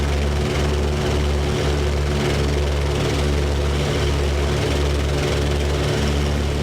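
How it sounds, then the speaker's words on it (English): Wright Cyclone twin-row 14-cylinder radial engines on a WWII B-25 bomber run at a steady, loud, throbbing drone with a low pulsing beat, heard alone and close at a regional airport. "they're Wright Cyclone two rows of 7 14-cylinder engines"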